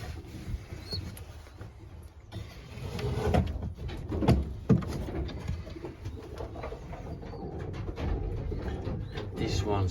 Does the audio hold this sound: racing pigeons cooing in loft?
yes